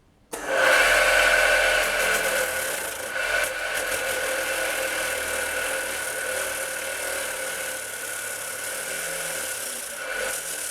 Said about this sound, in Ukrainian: Ну, Давайте спробуємо його порізати.